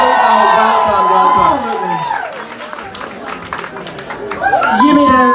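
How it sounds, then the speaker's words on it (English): Pageant audience cheering and applauding for the safe queens, loud whoops and shouts that fade under a voice mid-clip, then swell again into a burst of cheers at the end. "But a big cheer for your safe queens, yes!"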